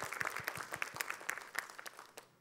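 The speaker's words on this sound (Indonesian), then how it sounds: "Boleh tepuk tangan Bu buat Nash Bu" An audience at an Islamic religious talk show claps, sharp uneven hand claps in a brisk burst of applause that thins out and fades toward the end.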